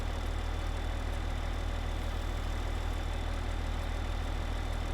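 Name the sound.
tractor engine in Farming Simulator 15 video game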